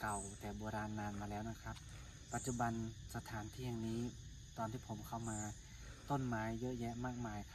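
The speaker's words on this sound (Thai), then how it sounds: "บรรยากาศร่มรื่นมีเสียงจักจั่นร้อง" Cicadas drone in a shrill, steady high buzz among the shady trees of Wat Khao Phlai Bat, a hilltop temple on an old volcano in Prakhon Chai, Buriram, faintly beneath someone talking close up.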